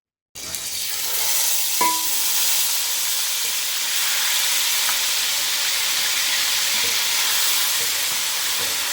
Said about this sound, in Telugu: ఆయిల్ ఉల్లిపాయ పేస్ట్ వేసుకున్నారు